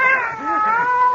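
A cat lets out a drawn-out, wavering meow, loud and close, with no talking over it.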